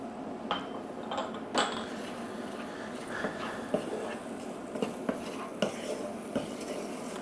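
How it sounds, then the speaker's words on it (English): Spices, onions, ginger and garlic stirred in a pan over low heat, a soft sizzle under repeated scraping and clinking of a utensil against the pan, close and fairly quiet, with no talking. "Mix all these spices together. And make sure you do it on a low heat."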